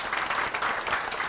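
At the annual Cap to Cap conference in Washington, a room gives a short burst of steady applause. The clapping is moderately loud and continuous, with no speech over it.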